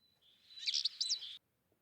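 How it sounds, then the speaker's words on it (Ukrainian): A single bird gives a quick burst of high, bright chirps, heard clearly and alone against silence. "птах"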